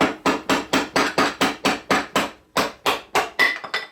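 A hammer drives a chisel into wood in a steady run of about fourteen sharp, close, loud strikes, each with a quick decaying knock, briefly pausing once before resuming.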